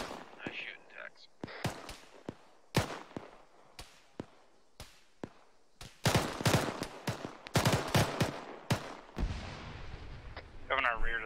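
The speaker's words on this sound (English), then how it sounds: "Shots coming from the northeast" Gunfire crackles through a military shooter game, with sharp single shots and short bursts at varying distances, some close and loud, others distant, while squadmates talk over radio in between.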